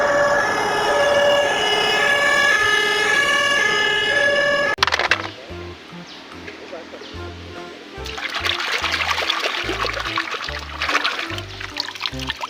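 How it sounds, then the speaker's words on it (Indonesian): Toy fire engine siren wailing in a steady electronic tone, then cutting off into clattering handling noises and rustling as the toy is played with up close. "di sini kakak dapat mainan, yaitu mainan damkar si pemadam kebakaran"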